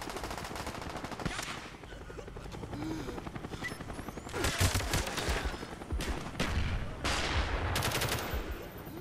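Cobra attack helicopter in the Call of Duty Black Ops video game, a continuous rotor roar layered with bursts of machine-gun fire and explosions across a busy battle mix.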